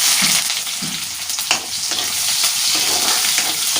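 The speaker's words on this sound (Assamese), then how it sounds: "মোৰ তেল এয়া হেৰি হৈ গৈছে গৰম ইয়াত মই পিয়াজ নহৰু আৰু পিয়াজ আৰু নহৰু ইয়াত দি দিম" Onion and garlic crackle and sizzle steadily in hot oil for a banana stem curry, close and loud, with occasional stirring scrapes and no voices.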